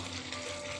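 Cauliflower, peas and potatoes sizzle in oil in a pan, giving a brief, soft, even hiss.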